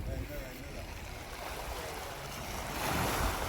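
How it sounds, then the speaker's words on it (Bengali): Sea waves wash against the Croatian coast in a steady, broad surf roar that swells toward the end, mixed with wind buffeting the microphone and a voice at times. "সমুদ্র ঢেউটা দেখেন"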